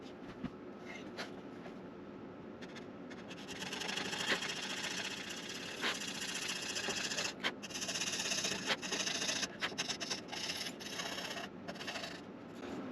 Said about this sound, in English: Okay, I've got my jeweler's saw.